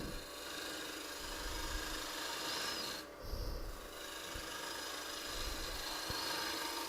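Wood being cut on a lathe with a Robert Sorby Steady Pro tool, a steady scraping rasp of light passes that stops briefly midway and then resumes, with no talk.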